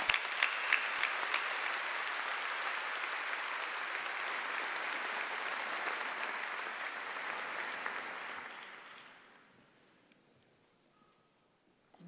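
Broad, steady applause from a large graduation audience fills the room for about nine seconds, then fades away into near silence.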